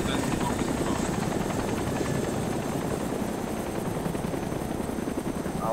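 A helicopter in the video game DayZ gives off a steady, loud, unbroken engine-and-rotor drone that fills the whole stretch without letting up.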